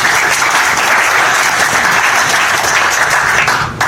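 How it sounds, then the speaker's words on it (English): Loud, dense applause from an audience at a UX collaborative event, sustained and even before tapering slightly at the very end. "So please round of applause"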